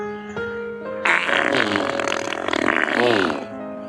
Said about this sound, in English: Farts. They're everywhere.